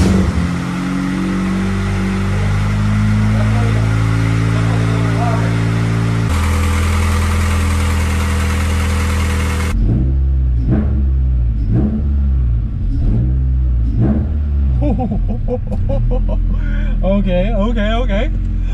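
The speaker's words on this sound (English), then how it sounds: "First startup of this thing, let's see how it sounds." A Honda Civic with a newly installed exhaust starts up and revs loudly, its engine note rising and falling in several blips before settling into a steady idle, with a person talking over it.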